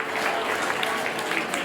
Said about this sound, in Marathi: जोरदार टाळ्या वाजवायच्या आहेत.